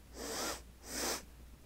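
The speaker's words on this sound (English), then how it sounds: "I will look and will sniff around because I'm pretty good at sniffing" Two quick, close sniffs in a row, breathy and separated by a short pause, in an otherwise quiet setting.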